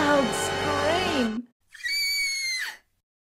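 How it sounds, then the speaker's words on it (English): A storybook sound effect of a girl's loud scream follows a rising and falling whinny-like cry, then a sharp, piercing shriek after a brief pause, ending abruptly in silence. "She let out a loud scream."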